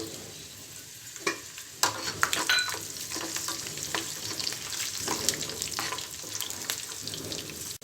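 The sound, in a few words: peanuts and garlic frying in a pan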